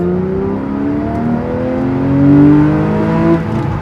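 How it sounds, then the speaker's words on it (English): A Porsche 911 fitted with Fabspeed headers pulls hard at full throttle in second gear from about 20 mph, its engine note climbing steadily in pitch and swelling louder midway, close and alone. "So I'm in second gear. I slow down about 20 miles an hour, and I've floored it."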